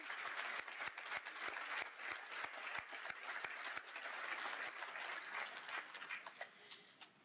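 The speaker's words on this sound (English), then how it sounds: "let's give Debbie a round of applause" Dense, steady applause from an audience at a 2023 high school equivalency graduation ceremony, sustained for several seconds with sharp individual claps standing out, then easing off at the end.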